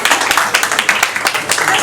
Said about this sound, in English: A big round of applause for Genevieve.